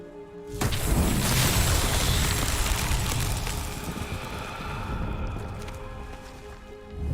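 The Incendio fire spell is cast in Hogwarts Legacy, bursting into a loud, dense whooshing roar of flame that sustains for several seconds and slowly eases, with no talking.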